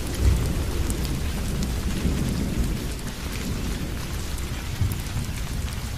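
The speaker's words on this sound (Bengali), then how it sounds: "অনেক জোরে জোরে বিদ্যুৎ চমকাচ্ছে। বৃষ্টি যেন থামছেই না ঘন্টা কয়েকের মধ্যে।" A heavy thunderstorm at night with dense, constant rain pouring down and low thunder rumbling underneath, loud and continuous.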